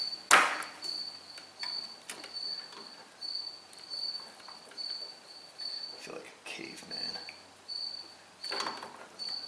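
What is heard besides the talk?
crickets chirping at night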